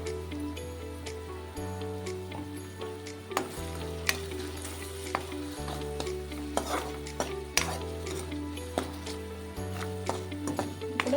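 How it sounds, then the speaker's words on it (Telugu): Ingredients for a Telugu raw banana and gongura dish, with tomato and turmeric, fry steadily in a pan while a utensil stirs and scrapes, giving repeated clinks and scrapes over a continuous close sizzle. "దీంట్లోనే ఇలాగ ఫ్రై అయిపోయినాయి కదండి అన్నీ కూడా"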